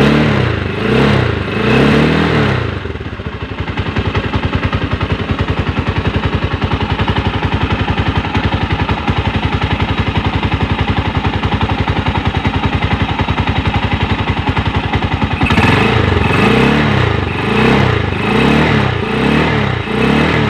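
Rusi 200 motorcycle engine with a battery charging fault, idling with a rapid pulsing exhaust chatter, then revved hard for a long stretch of loud, steady high-rpm roar before dropping back to idle.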